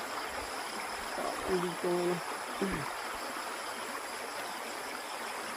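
Flood water rushing along a stream, a steady broad roar carrying plastic debris, constant and fairly close, with someone speaking briefly over it.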